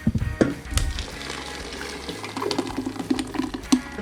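Pureed grapes are poured into a strainer to drip. A soft, wet pour and slosh runs close by at moderate volume, broken by small splattering blips.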